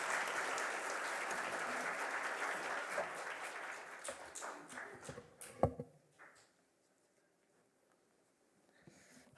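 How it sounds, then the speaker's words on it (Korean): A church congregation claps to welcome the pastor during Sunday worship, a full round of applause that thins into scattered claps and stops, followed by near quiet. "우리 박수로 환영하도록 하겠습니다."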